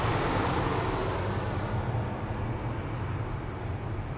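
Airbus A220-300, the former Bombardier C-Series airliner, at Amsterdam Schiphol, giving a steady broadband jet roar with a low rumble that eases slightly over a few seconds, with no voices.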